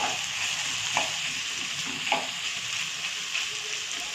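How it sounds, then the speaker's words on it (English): Potatoes with turmeric are stirred in a frying pan, with a steady hiss of sizzling oil and a few soft scraping strokes of the spoon against the pan. "Now spread it nicely till the potatoes get mixed with the turmeric."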